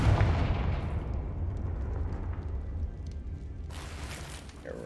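A Confringo blasting spell explodes in the Hogwarts Legacy video game, a loud dense rumbling blast that rolls on with rattling mechanical debris and ends with a sharp bright burst.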